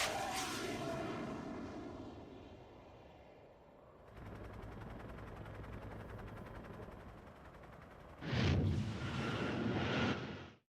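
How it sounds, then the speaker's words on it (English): A nuclear missile launching and detonating in the video game Metal Gear Solid 3: a long roaring rumble gives way to a sustained broadband blast, then a fresh loud burst near the end, with no talk. "He just shot a nuke for the fun of it?"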